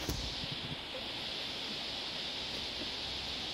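A steady, quiet rush of water runs below a waterfall, a soft continuous hiss with no talking over it.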